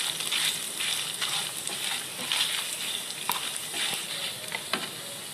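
Eight dry red chillies roasting in a hot pan for sambar, giving a steady close crackle and sizzle with stirring scrapes and small pops throughout, with no talking.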